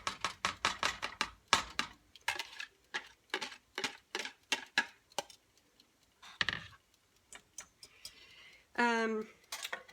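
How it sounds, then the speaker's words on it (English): A salt shaker with some pepper mixed in is shaken rapidly over a bread pudding mixture, giving bursts of quick rattling taps in a fast rhythm, close and crisp. "I'm just shaking out of the shaker in it."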